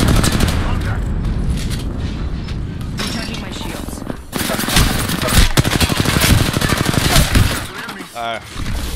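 Sustained automatic gunfire in Apex Legends, loud rapid bursts with brief gaps, mixed with scattered impacts and a sharp mechanical rattle near the end.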